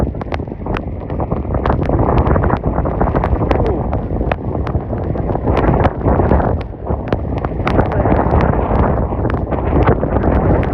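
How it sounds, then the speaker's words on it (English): Roaring wind gust of about 50 mph in a winter storm whiteout in New England, a loud, continuous buffeting blast hitting the microphone with rhythmic thumps throughout. "That's about a 50 mile per hour gust right here"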